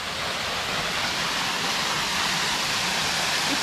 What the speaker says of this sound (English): We are so close to this waterfall.